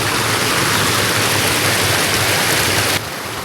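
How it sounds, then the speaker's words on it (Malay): Continuous rushing of a small stream flowing nearby through a garden plantation, a broad steady wash of water that drops slightly in level near the end. "Jadi kebun kami ada satu anak sungai yang lalu di tengah-tengah dia"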